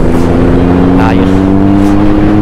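Loud car engines rev at an outdoor car meet, a steady heavy rumble with a brief rising rev surge near the middle, close and continuous.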